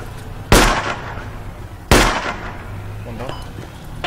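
Two sharp, loud gunshots in a video game, a second or so apart, each with a short decaying tail, over a steady low background.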